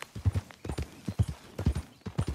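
Horse hooves from a video game ride, a steady galloping clip-clop of repeated quick hoofbeats in pairs, close and clear with no talking over it.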